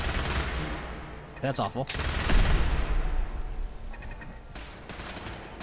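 Rapid bursts of gunfire from a weapon in heavily modded Fallout 4 crackle in short volleys, then trail off into quieter shots, with a voice talking in between.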